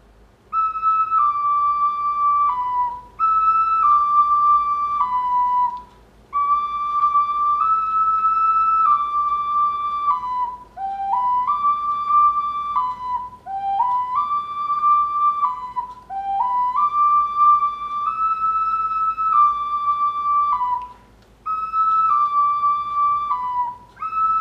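A wind instrument plays the melody of My Lantern, a clear whistle-like tone in stepwise phrases separated by short pauses, steady and close with no voices.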